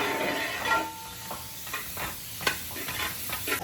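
Onions for chicken maqluba sauté in a pan, with a steady close sizzle broken by repeated scraping stirs.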